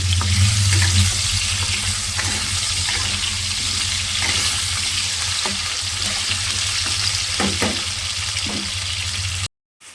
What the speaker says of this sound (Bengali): এবার কেটে রাখা আলুগুলোকে কিন্তু আগে লাল লাল করে ভেজে নেব।